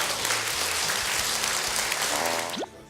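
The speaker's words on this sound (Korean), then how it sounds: "박수 한번 주세요" Applause from a seated audience at a civic academy lecture held at the National Assembly, a dense steady wash of clapping that cuts off abruptly near the end, leaving a brief tonal chime.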